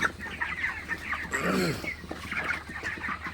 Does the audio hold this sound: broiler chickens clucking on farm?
yes